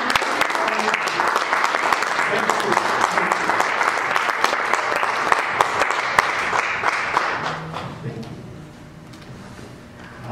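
Church congregation applauding at a Spanish-language service, dense steady clapping with some voices mixed in, fading out over the last couple of seconds.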